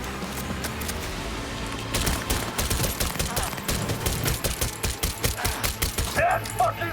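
Rapid bursts of video game gunfire crackle through a chaotic fight, a quick run of sharp repeated shots building from about two seconds on, with busy game sounds beneath.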